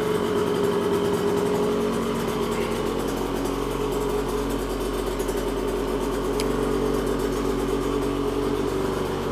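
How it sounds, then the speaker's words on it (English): A two-stroke premix dirt bike engine idles steadily in a garage, a loud continuous buzzing drone with a fast even pulse that holds throughout. "Bike is sounding awesome right now."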